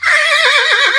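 A voice imitating a horse neighing, heard as a single loud, close, wavering whinny that quivers up and down in pitch for about a second.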